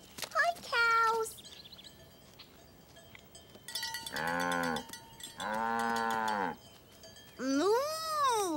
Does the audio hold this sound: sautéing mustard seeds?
no